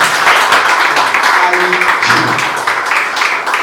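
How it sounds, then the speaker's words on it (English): Audience at an Ubuntu Africa open-source meet-up applauds after a tech talk, a loud, dense clapping that fades slightly, with a few voices murmuring underneath. "All right, ladies and gentlemen, round of applause."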